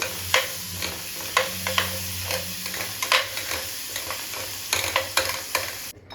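Fish pieces with a little lemon juice and a spoon of flour are mixed by hand with a spoon, giving close, uneven, repeated scraping and clacking strokes over a quiet background with no talk.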